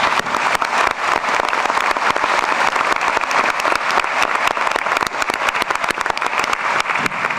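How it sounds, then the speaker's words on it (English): Dense, sustained applause from a large audience at a 2018 Robert Morris University doctoral commencement ceremony, loud and steady throughout with no voices over it. "I'd ask them to give Dr. Hickson another round of applause."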